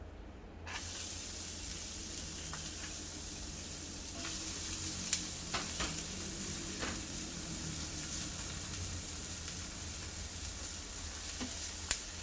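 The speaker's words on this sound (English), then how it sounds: "I have to wait for the onions to cook." Onions frying in a little olive oil give off a steady, moderately loud sizzle that runs almost unbroken, with a few faint clicks and taps near the pan and no talking.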